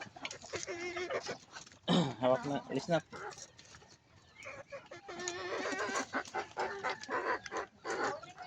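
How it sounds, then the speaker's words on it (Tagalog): Chickens cluck and chatter close by in irregular bursts while a person talks over them. "Ang isa ko pang manok."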